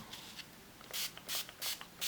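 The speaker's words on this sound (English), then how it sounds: "I'm just going to spray it here and there" An aerosol spray can hisses onto a heart wall hanging in four short, bright bursts of increasing length, close but quiet, with faint rubbing in between.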